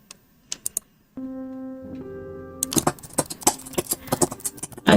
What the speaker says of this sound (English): I sit in the cafe typing at my laptop